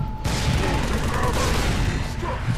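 Halo 3 ODST firefight with a grenade blast and gunfire, a dense, loud, continuous roar of explosion and shooting filling the whole short stretch.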